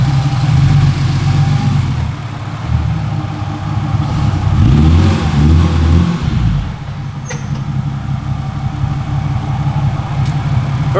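A turbocharged BMW E36 engine idles with a low rumble, then revs up and pulls away before settling back to a steady hum, recorded close by.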